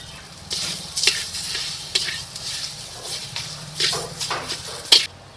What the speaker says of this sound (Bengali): এই তেলে দিয়ে দিচ্ছি কিছু গোটা জিরে হাফ চামচ মতো হিঙ্গুড়ো ডাল বাটাটা দিয়ে দিচ্ছি